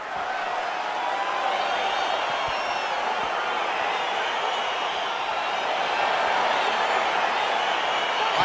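A video game arena crowd at an EA Sports UFC 4 fight roars steadily and loudly with cheering and whooping as the bout gets underway, a dense continuous wall of noise with no clear speech.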